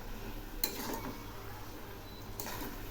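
A spoon stirs cumin and ginger paste in a cooking pot, a quiet steady scrape with two sharp metallic taps against the rim.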